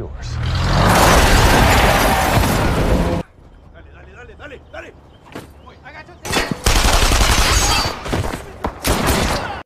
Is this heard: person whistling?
no